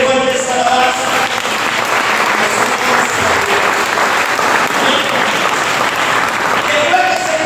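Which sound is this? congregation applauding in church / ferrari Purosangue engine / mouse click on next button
congregation applauding in church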